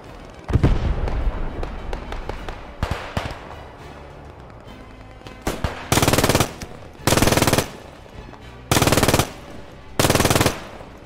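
Machine gun fire in the World War II shooter game Squad 44: scattered distant shots and crackle at first, then four loud sustained automatic bursts about a second each, separated by short pauses, with no talk.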